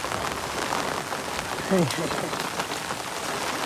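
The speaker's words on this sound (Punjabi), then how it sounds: "ਰੱਬਾ ਹਟ ਜਾ ਮੀਂਹ ਪਾਣੋਂ ਹਟ ਜਾ" Steady rain patters and hisses across the whole stretch, with a brief muffled voice sounding partway through.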